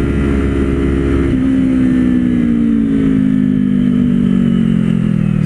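A Kawasaki Z400 sport motorcycle engine revs loudly and steadily up close on a highway, its pitch climbing gradually as it accelerates, with no voices.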